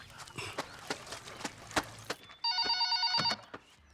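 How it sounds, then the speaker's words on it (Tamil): Telephone bell ringing in a home scene of a Tamil thriller film, one clear trilling ring in the middle, faint and close, after scattered footstep-like knocks, with no voices. "ஃபோன் அடிக்குது யாருன்னு பாரு"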